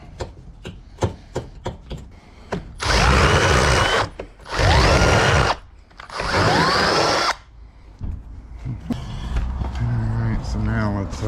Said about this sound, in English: Go ahead and deburr the hole a little bit.